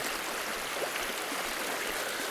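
Steady, continuous rush of a creek flowing, a broad even wash of water noise with no breaks, heard alone without voices.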